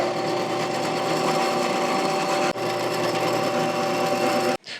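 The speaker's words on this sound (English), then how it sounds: "So I'm going to do that on the drill press right now." A drill press bores holes in aluminum extrusion, a steady high motor whine with grinding cutting noise, near and loud, briefly dipping midway and cutting off at the end.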